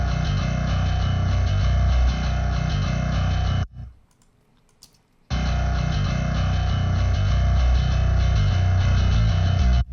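A dense metal song mix with a heavy 808 sub-bass drop under compressed low end, the full mix dropping out briefly to near silence before the thick, loud wall of bass and instruments slams back in.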